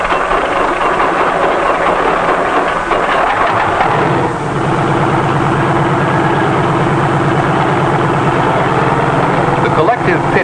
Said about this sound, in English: A self-starter starts the engine, and after a careful warm-up,